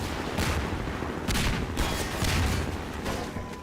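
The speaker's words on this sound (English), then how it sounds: "Here comes the missiles." Rapid volleys of missiles firing in a video game, a dense run of sharp bursts and booms that keeps the level high across the whole stretch, with no talking over it.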